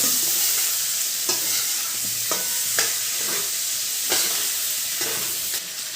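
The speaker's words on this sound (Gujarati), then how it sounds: "ખાંડ મકાઈના બાફેલા દાણા હવે મિક્સ કરી નાખીએ" Boiled sweet corn kernels and sugar being stirred in a pan, with a steady sizzle and repeated scraping strokes of a spoon at close range, alone.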